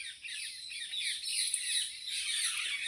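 Many birds call at once by a village pond where peacocks gather, a dense, continuous chorus of squawks and chatter at a steady moderate level with no voices.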